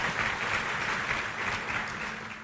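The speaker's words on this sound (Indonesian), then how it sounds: "Kasih tepuk tangan kepada Tuhan." A church congregation at a Sunday morning service claps in a dense, continuous round of applause lasting a couple of seconds, steady in level and heard alone without talk.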